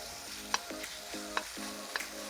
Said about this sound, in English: So all the flavors in it, that sizzle.